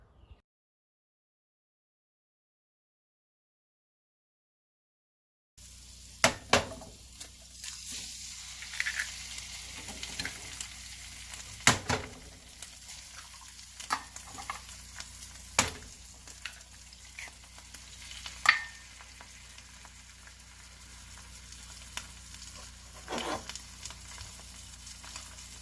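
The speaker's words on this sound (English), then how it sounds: "We'll cook some breakfast together." Breakfast frying in a pan with steady sizzling throughout, punctuated by sharp clatters of utensils and pans after a silent opening; no talking.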